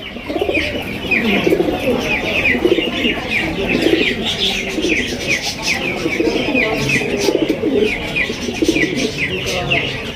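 Several short-faced pigeons coo repeatedly in overlapping soft, throaty calls, close by, with brief chirps mixed in.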